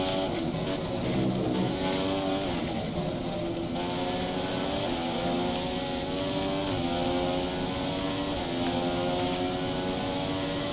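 A Formula 1 car engine at Silverstone in the F1 2015 racing game, a loud, high-revving whine that climbs and drops repeatedly through gear changes, continuous and close.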